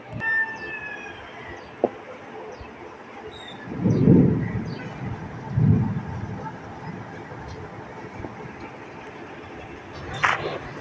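Thunder from overcast storm clouds, heard as two deep, low rumbling swells a couple of seconds apart, moderately distant, over a steady outdoor background with faint birds and no rain.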